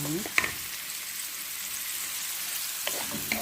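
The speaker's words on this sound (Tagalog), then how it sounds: "ilagay ko yung bawang at saka sibuyas. Halo-haloin lang natin guys." Garlic and onion sizzle steadily in a hot pan for laham sambosa filling, with a couple of sharp utensil clanks as it is stirred, close and clear.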